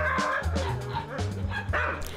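Alaskan husky sled dogs bark and yip excitedly in rapid, overlapping bursts, close and loud, before a sledding run in Sweden.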